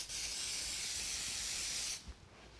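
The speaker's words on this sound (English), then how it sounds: "I'm going to spray the activator on the end of the 12-inch piece" A continuous hissing spray of CA glue activator aimed at the end of a 12-inch piece of wood lasts about two seconds close up, then cuts off, leaving a faint knock.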